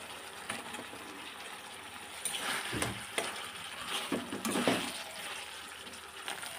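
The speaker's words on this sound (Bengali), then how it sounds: "এখন আর একটু কষিয়ে নিয়ে আমি মাছ ছেড়ে দেব" Poppy seed paste sautés in a wok with bhetki fish, giving a soft, steady sizzle with intermittent stirring scrapes and bursts, fairly quiet and close.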